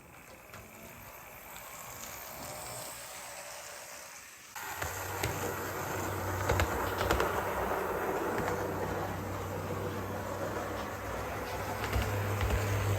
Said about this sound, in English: It's more of a higher pitched whirring sound until it gets run in.